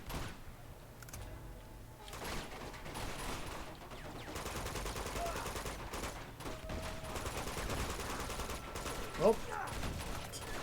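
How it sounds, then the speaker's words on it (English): Machine gun fire in the video game Uncharted 2: Among Thieves, a steady rattling barrage running under game noise and music, with a sharp burst near the end and a brief spoken exclamation. "There is, in fact, a machine gun over there. I can tell because it's shooting me"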